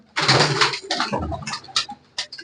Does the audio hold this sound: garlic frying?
no